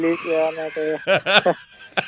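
A rooster crows loudly in a drawn-out call, followed by a few shorter, choppy squawks and a brief final cry.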